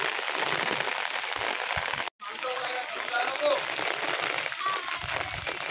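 Sudden heavy rain pours down steadily at a Konkan construction site, a dense hiss with a momentary break midway, while voices talk over it.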